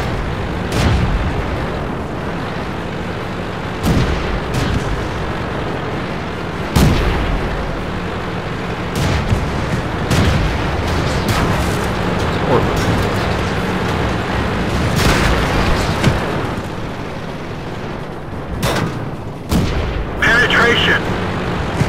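A tank gun fires repeated sharp booming shots in World of Tanks, several blasts spread across a long stretch of steady engine rumble, with a voice talking intermittently between the shots.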